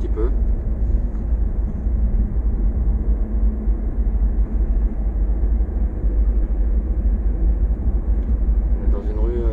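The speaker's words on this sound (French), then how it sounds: "Là je réaccélère un tout petit peu." A car engine hums and rumbles steadily from inside the cabin as it gently picks up speed after a shift down from third to second gear on a small street in Paris's 13th arrondissement.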